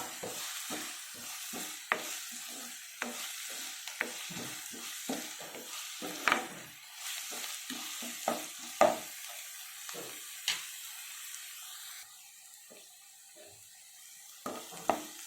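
Potato and pea curry ingredients with ginger-garlic paste fry in a pan, a steady close sizzle broken by frequent sharp scraping stir strokes, easing to a quieter hiss near the end.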